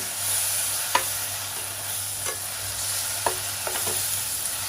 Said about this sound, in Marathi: आणि चांगलं आता आपल्याला परत परतवून घ्यायचं आहे